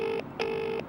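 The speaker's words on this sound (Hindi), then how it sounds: "भाई रिंग तो जा रही है" A telephone ringback tone plays after dialing during a call in a Hindi-dubbed crime thriller, with two buzzy tone pulses split by a short gap, clear and alone.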